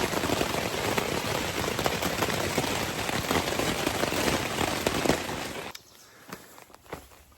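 Steady rain pours onto the Appalachian Trail, a dense, even hiss that continues for several seconds and then suddenly drops away to near quiet, broken only by a few scattered drips.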